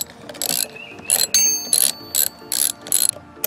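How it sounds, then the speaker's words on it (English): A ratchet wrench with a 10 mm socket turns the battery terminal nut on a 1996 Honda 300 Fourtrax ATV. It gives about six quick bursts of loud, close clicking, with short pauses between strokes and no speech. "To disconnect the battery, we're using a 10 millimeter socket."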